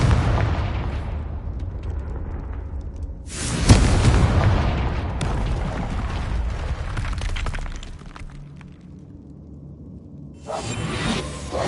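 A fiery Confringo spell explosion in Hogwarts Legacy: one loud booming blast with a whoosh, set against a steady game soundscape that quiets and then swells again near the end.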